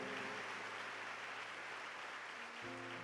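A church congregation applauding during a homily, a steady, fairly faint wash of clapping lasting the whole stretch with a low hum underneath.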